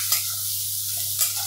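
Chopped onions sizzle steadily in a hot pan, a constant frying hiss with a low hum underneath and two brief scrapes of stirring near the start and end.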